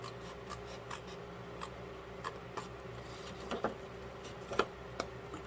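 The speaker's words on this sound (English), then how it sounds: "So I'm going to cut up here on this very first outside score line." Paper being cut along a score line for a Halloween countdown calendar craft, with a series of soft, brief snips and rustles at close range in a quiet room.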